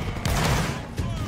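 Massed musket volley in a Napoleonic Wars battle game, a dense crackling burst of many shots fired together, loud and close, with a second ragged crack near the end and a voice faintly underneath.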